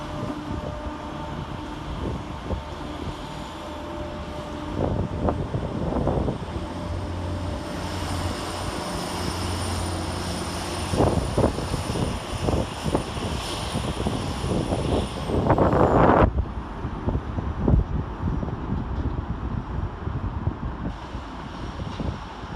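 Transport for Wales class 769 train 769.003 departing Cardiff Queen Street station, a loud engine drone building and rumbling as it pulls away, with gusts of wind noise and a high whine fading near the end.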